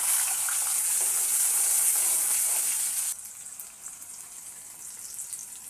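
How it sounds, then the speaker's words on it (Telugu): Onions tipped into hot tempering oil in a pan: a loud, dense hiss and sizzle that abruptly drops partway through to a quieter, steady crackle, heard close with no talking. "తాలింపు ఉల్లిగడ్డలు వేస్తున్నా"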